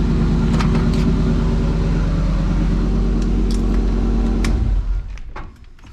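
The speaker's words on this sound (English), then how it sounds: "Exhaust sounds really good on it." A 4x4 Chevrolet K5 Blazer's exhaust rumbles loud and close with a deep, steady revving engine note, then fades sharply near the end into quieter background sounds.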